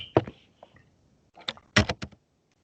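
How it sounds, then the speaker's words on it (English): A few scattered clusters of keyboard clicks, close and fairly quiet, with short pauses between bursts of typing. "Probably not good radio listening to me typing"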